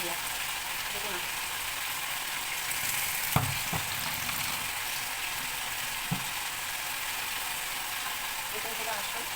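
Mutton mince frying in a pan with ginger, garlic and green chili gives a steady, even sizzle throughout, with a few brief scraping knocks from stirring.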